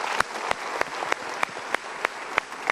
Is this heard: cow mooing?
no